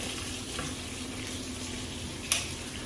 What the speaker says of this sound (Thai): ทอดปลาตัวทอดปลากินเข่า มีปลาทอดค่ะ